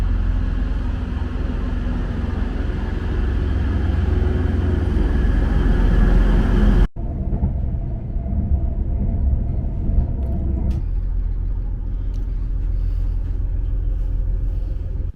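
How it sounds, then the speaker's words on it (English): Steady loud rumble of a moving passenger train on a short hop between closely spaced stations in northern England, shifting abruptly midway to a deeper, muffled roar inside a tunnel, with no voices. "that was only an 8-minute train ride"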